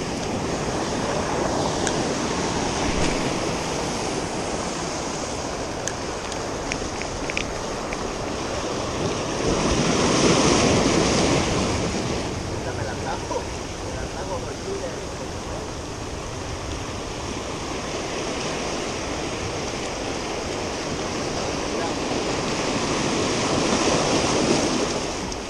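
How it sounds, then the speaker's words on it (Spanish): Strong ocean waves crash and wash steadily onto a beach, with wind gusting across the microphone; the surf swells louder around the middle and again near the end. "Fuerte las olas."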